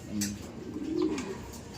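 A racing pigeon coos softly up close, a low murmuring call under faint background noise.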